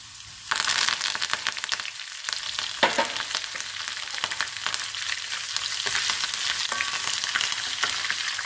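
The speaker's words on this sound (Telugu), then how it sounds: "కరివేపాకుని వెల్లుల్లిని వేయించుకోవాలి" Curry leaves and garlic frying in hot oil give a loud, dense crackling sizzle that bursts in abruptly and holds steady, with brief stirring scrapes close by and no talking.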